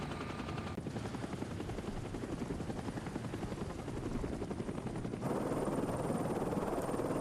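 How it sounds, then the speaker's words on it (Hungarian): A helicopter in the racing video game The Crew Motorfest, set in Hawaii, gives off a steady, loud rotor chop that carries on throughout and swells slightly near the end. "Hát helikopter, helikopter!"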